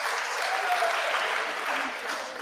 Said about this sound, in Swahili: Please begin makofi.